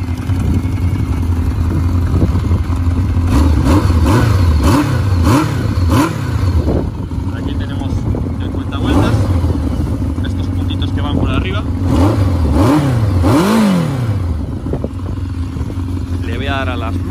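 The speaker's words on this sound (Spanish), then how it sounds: "Bastante silenciosa la moto." A Kawasaki Zephyr 750 motorcycle with brat-style modifications idles fairly quietly, then gets several sharp revs that rise and fall, close by, with someone talking over it throughout.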